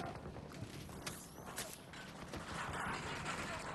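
Weapon reload in the video game Battlefield 2042, faint mechanical clicks and metallic rattling of the magazine and action, quiet and short.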